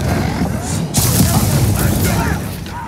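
A Bombarda blast spell from the Hogwarts Legacy video game, a loud booming explosion with a sharp onset that rumbles on for a couple of seconds, with a voice nearby.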